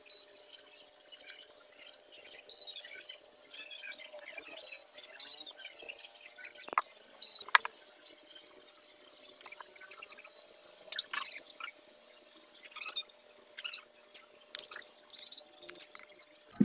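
Water trickles and drips faintly with small splashes and light clinks as dry cell battery parts are rinsed, in irregular bursts over a quiet background.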